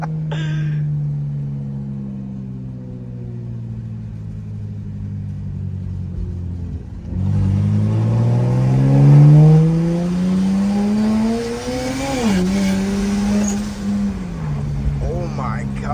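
A BMW N54 single-turbo car accelerates hard. The engine drones steadily, then its loud pitch climbs sharply, dips briefly at a shift and pulls again, heard from inside the car with a voice over it.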